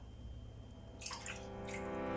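Water pours into a cooking pot for Veracruz-style beef barbacoa, a soft splashing stream that starts partway through and continues faintly with small drips.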